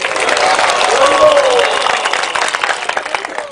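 An audience at a Krishna devotional gathering breaks into loud, dense applause with crowd noise, strong at first and then tapering off as the clapping thins.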